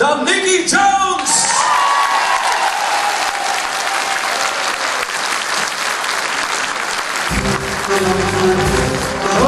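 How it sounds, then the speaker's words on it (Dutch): Concert audience applauds loudly and steadily, a dense wash of clapping with a few cheers and whoops, while a band's music comes in underneath toward the end. "Mag ik dan een daverend applaus, beste mensen?"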